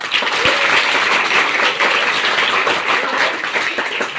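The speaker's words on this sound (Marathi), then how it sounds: "तुमच्यासाठी एकदा जोरदार टाळ्या वाजवा." A seminar audience applauds loudly, dense continuous clapping from many hands filling the room at close range, steady throughout without a break.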